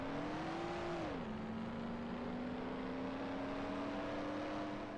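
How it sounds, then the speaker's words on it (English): Engine of a car in Mafia holding a steady drone, its pitch dipping sharply as the car swings through a 180-degree handbrake turn, then droning on evenly and close. "Now, do a 180 turn with the handbrake."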